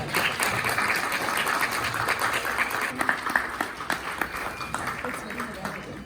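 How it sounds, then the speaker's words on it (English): Audience at a national conference welcome ceremony at JCD Vidyapeeth applauding guests: a continuous wash of many hands clapping, moderately loud, with a voice speaking over it. "Applause."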